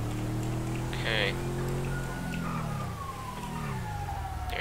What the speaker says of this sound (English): There's that ambulance.